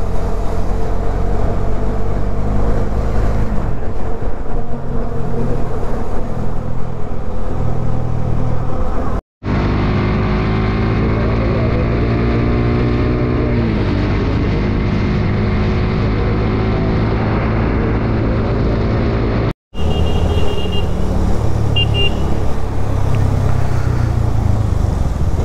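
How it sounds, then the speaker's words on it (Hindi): Midday road traffic in Mulund, Mumbai, heard from a motorcycle: a loud, constant rush of wind and engine drone with passing vehicles and engine revs, broken by two brief dropouts, and no talking. "लेकिन ट्रैफिक कितना है, दोपहर के वक्त है"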